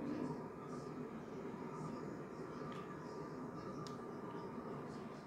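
A moving train in a video game rumbles as a steady, fairly quiet mechanical drone, with a couple of brief high clicks over the top.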